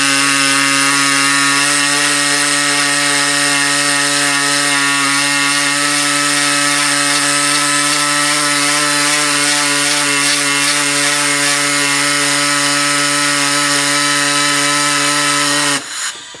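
A fine-toothed saw cuts steadily through an LSx intake, a loud, continuous buzzing rasp with strong tonal harmonics that runs unbroken until it stops abruptly near the end, with no voices.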